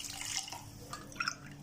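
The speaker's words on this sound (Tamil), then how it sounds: "4 டம்ளர் தண்ணி ஊற்றிக்கோங்க." Water poured into a pot for cooking macaroni, faint soft splashing and dripping with a few brief louder splashes.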